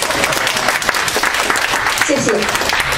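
An audience at a humorous Chinese speech contest claps, dense steady applause filling the short stretch, loud and close, with a voice briefly heard over it.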